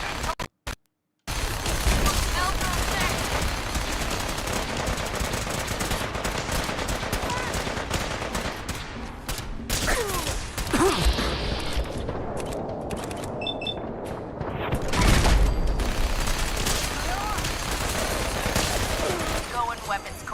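Bursts of gunfire in Fallout 4, rapid and single shots cracking in a busy, continuous exchange, loud and close, with occasional heavier booms.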